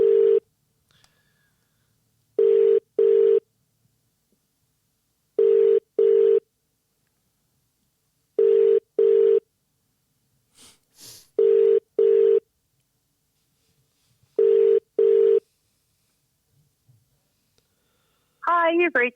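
An outgoing phone call rings repeatedly, each ring a pair of steady electronic tones separated by silent gaps, ending as an answering machine greeting begins.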